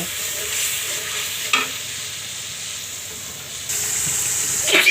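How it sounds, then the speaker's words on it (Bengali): Spice masala with salt sizzles and hisses as it is stir-fried in a pan for a Bengali catla fish, pumpkin and tomato dish, with a few sharp spoon scrapes and a hissing burst near the end, close and without speech. "মশলাটাকে ভালো করে কষিয়ে নেব"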